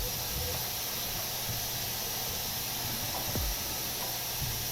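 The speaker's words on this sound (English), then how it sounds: "the air compressor leaking?" An air compressor leaks air in a shop during a 1981 Monte Carlo trunk lid repair, giving a constant broad hiss that runs unbroken throughout at steady loudness.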